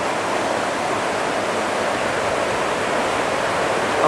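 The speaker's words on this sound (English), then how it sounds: "I found myself a great cascade of water" Cascading waterfalls of running water tumble down a stream near Crianlarich, a steady, full rushing roar that holds constant and close throughout with no voices.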